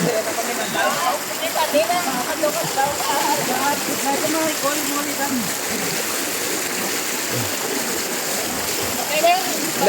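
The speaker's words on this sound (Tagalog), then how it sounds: "River crossing. River crossing. Ape, ape. Ano ka na? Malakas ang tubig, oh." Fast-moving river water rushes and splashes continuously close by during a bike river crossing, a loud churning flow with voices talking over it.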